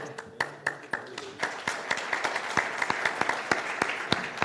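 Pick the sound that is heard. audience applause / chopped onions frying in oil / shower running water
audience applause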